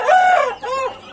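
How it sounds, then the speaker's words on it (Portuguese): A young rooster crows close by in two loud, strained bursts, mixed with a hen's clucking, with no talking. "O franguinho tá querendo graça com a galinha lá embaixo."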